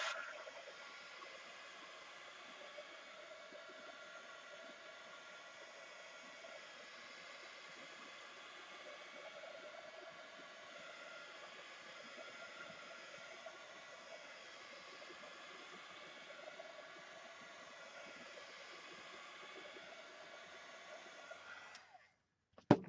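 A hair dryer drying paint gives a soft, even blowing hiss that runs steadily at a distance for about twenty seconds, then cuts off with a brief click at the end.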